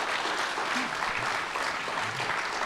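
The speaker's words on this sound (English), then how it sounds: "let's give one more round of applause" An audience at a conference talk claps in sustained, even applause, a dense patter of many hands that holds steady throughout with no voices standing out.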